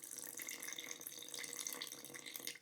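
Tap water runs steadily into a container to measure liquid for you tiao dough, a continuous close splashing trickle with no talk.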